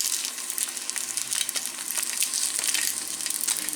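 A flipped egg fries in a pan for a grilled cheese, giving a continuous close crackling sizzle with dense popping, steady and alone with no voices.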